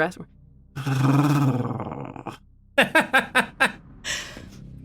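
A voice imitates a character's low growl from the back of the throat, a sustained rough grunting rumble followed by a series of short huffing bursts, with speech around it.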